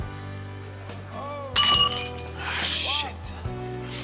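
Glass breaks into shards with a sudden bright crash, followed by a scattered tinkling of fragments, set against a steady background hum and voices speaking.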